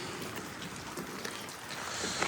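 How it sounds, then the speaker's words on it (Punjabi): Steady heavy rain hissing without a break in strong wind, with faint scattered patters of drops on a surface, no voices. "ਓਹੋ ਬੜਾ ਤੇਜ਼ ਮੀਂਹ ਆ ਬਈ"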